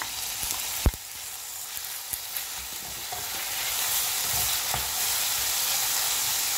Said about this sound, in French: donc là je fais revenir encore les poivrons